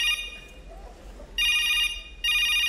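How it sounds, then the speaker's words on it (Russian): A mobile phone rings out on a fishing trip, two loud bursts of a bright electronic ringtone after a quieter stretch, close by and clear over faint background. "Ты что телефон не отключаешь-то?"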